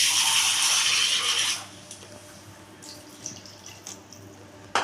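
Water pours steadily into a cooking pot of rice and pointed gourd for about a second and a half, then stops, leaving faint clinks and quiet kitchen noise.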